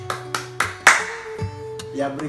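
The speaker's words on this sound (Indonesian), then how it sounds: "boleh tepuk tangan semuanya" A school class clapping together after an ice-breaking chant during a guidance lesson, a handful of sharp, loud claps spaced out over about two seconds with a sustained tone running underneath.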